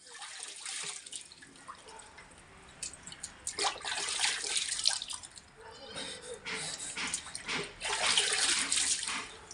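Water is poured over a child's head during a bath, splashing and gushing in uneven bursts, close and fairly loud, with voices talking quietly underneath.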